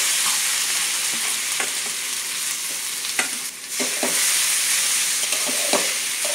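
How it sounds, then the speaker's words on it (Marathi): Green chillies sizzle steadily in hot tempering oil, a dense continuous frying hiss close to the pan, broken by a few stirring scrapes and clinks. "आता या मिरच्या फोडणीला टाकल्यात आपण"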